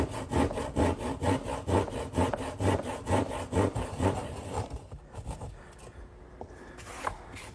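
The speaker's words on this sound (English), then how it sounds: "now I'll just finish off the corners using my trusty old hand saw" A hand saw cutting the corners of a wooden panel, about a dozen rhythmic, close rasping strokes that slow and fade into a few scattered scrapes and a soft knock.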